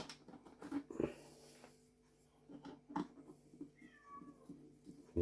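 A cat meows a few times, short separate calls fairly close by, with small shuffling and tapping noises in between during a vacuum cleaner motor repair.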